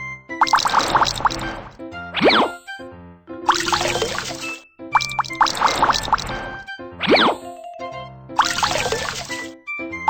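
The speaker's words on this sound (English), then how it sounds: "Rinse the bubbles off and the clothes are clean." Cartoon water splashing and pouring as clothes are rinsed in a kids' laundry learning game, bright bubbly liquid sweeps alternating with springy boing and tinkling effects in a repeating pattern, with no talking.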